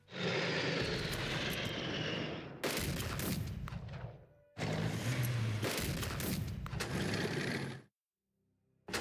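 Bombing-run aircraft from the strategy game Unity of Command 2 roar loudly and steadily in two long bursts, with mechanical ratcheting clicks layered in, before cutting to near silence at the end.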